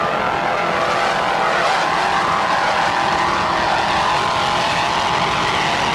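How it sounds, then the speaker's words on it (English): A 38-foot Bertram racing powerboat with twin 850-horsepower inboard engines and Arneson drives roars at speed on a lake, a loud, steady engine drone throughout with no pause. "a 38-foot Bertram powered by two 850-horsepower inboards with Arneson drives"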